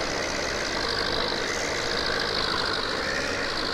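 A tractor pulling a trailer in Farming Simulator 17 runs as a steady, loud diesel drone with a coarse, knocking texture, holding an even level throughout and with no voices.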